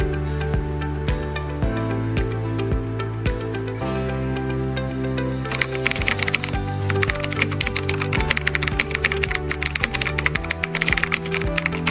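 Computer code is typed on a keyboard in quick, uneven bursts of close key clicks. The pace picks up partway through into dense, rapid clatter, and nobody speaks.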